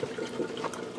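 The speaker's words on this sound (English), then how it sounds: "I've got the water running." Water running steadily through a homemade strawberry hydroponics system, draining into a basket, as a continuous soft trickle and splash close by, with no talk.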